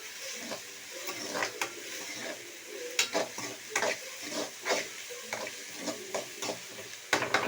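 Ginger garlic paste sautés in a pan, with soft sizzling under repeated spatula scrapes and stirring knocks, quiet and close with irregular strokes.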